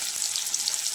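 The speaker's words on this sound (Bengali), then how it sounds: "ওই তেলেই আলুগুলো, কেটে রাখা আলুগুলো দিয়ে দেবো।" Cut potatoes fry in hot oil with a pinch of salt, giving a continuous close, bright sizzle with no talking.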